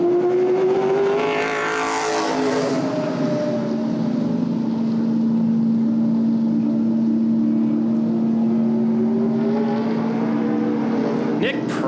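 A street stock race car drones around an oval track, its engine note sweeping up and down as it passes, then holding a long steady tone at moderate distance, with a crowd or announcer murmur faintly underneath.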